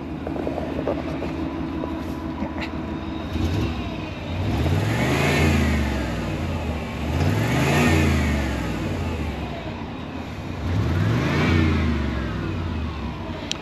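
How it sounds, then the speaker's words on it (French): A 1994 Chevrolet Silverado 2500 pickup engine idles, then is revved three times in clear rising-and-falling surges, close and loud, with no talking. "Bon, l'accélération, ça donne ça."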